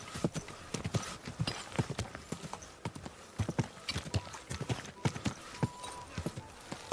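Horse hooves clip-clop in the video game Kingdom Come: Deliverance 2, a brisk, irregular run of sharp close hoof strikes on a hard surface that continues throughout.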